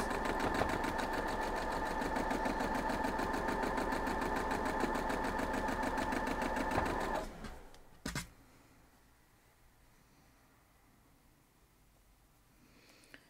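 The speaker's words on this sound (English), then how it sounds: "So we're just going to sew down the middle of the next 2 rows." Sewing machine running steadily as quilt block rows are stitched together, a loud continuous whirring for about seven seconds that stops abruptly, followed by a brief clack and then quiet handling.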